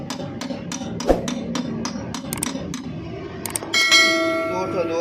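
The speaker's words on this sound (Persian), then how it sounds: "چند ضربه کوچیک با چکش به راحتی" A hammer taps a bushing into the axle of a Pride car, giving a quick series of sharp metallic clinks at a steady, light pace, followed by a brief louder clang and a ringing tone.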